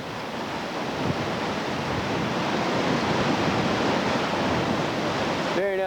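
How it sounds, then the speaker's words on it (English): Whitewater at Fayette Station Rapid roars in a long train of large waves, a loud, steady broadband rush that fills the scene without pause. "It's a nice long series of fairly large waves"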